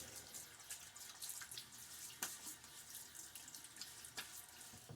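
A bathroom tap runs in a steady, hissing stream into a sink as a face is wet before a wet shave, with brief splashes and drips breaking through, faint and close with no voices.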